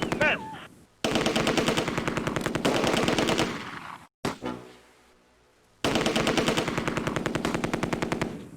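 Machine-gun fire in the wartime strategy game Close Combat: A Bridge Too Far, long rapid bursts of loud close shots separated by short gaps, with a brief burst near the start.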